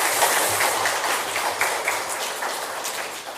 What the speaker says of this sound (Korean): 교사들 전체를 생각하면 박수 한번 하겠습니다.